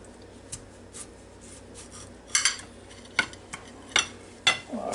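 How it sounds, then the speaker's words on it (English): A knife slices through a red tomato on a board, giving several short, soft cutting and tapping strokes spaced irregularly and close by, with a quiet background between them. "Now I'll just cut a couple of slices down through here."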